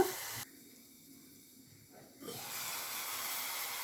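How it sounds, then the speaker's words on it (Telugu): Onions fry in a pan for a meal maker, gongura and tomato curry, giving a steady close sizzling hiss that briefly drops quieter before returning at full strength. "ఉల్లిపాయలు వేగుతున్నామండి"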